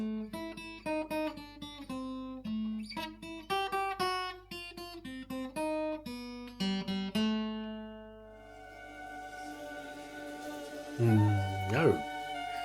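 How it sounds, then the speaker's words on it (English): A riff is picked on a Taylor six-string steel-string acoustic guitar, close and clear with ringing plucked notes in a rhythmic pattern, then the strings are left to ring out before a short scrape near the end. "trustworthy Taylor 6-string metal string guitar. All right, it would sound like this, the riff."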